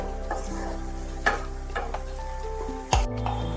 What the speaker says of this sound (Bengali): জলটা দিয়ে মশলাটাকে ভালোভাবে একটু কষিয়ে নিতে হবে।